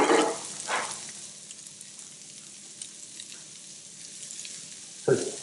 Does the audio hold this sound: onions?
yes